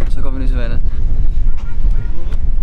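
Strong wind at the seaside on Rhodes, Greece, buffets the microphone in a loud, continuous rumble, with a brief burst of a voice near the start.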